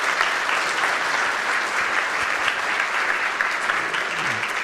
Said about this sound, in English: Guys, can you give an applause for this man?